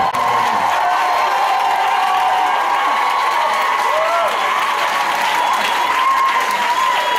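A church congregation at a Sunday service claps and cheers to acclaim the Lord, producing a dense, steady wash of applause with shouts and whoops throughout, loud and sustained.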